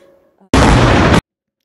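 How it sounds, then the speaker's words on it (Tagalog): A single massive blast in South Beirut hits as one loud, dense roar lasting under a second, cutting off abruptly after faint voices and background noise. "So ito yung blast na nangyari kahapon sa South Beirut."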